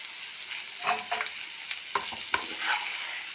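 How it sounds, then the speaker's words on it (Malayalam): A curry is stirred in a pan after half a spoon of asafoetida powder goes in, with a low sizzle beneath several sharp scrapes and knocks of the spoon against the pan, close and with no voices. "ഒന്ന് ഇളക്കി കൊടുക്കാം"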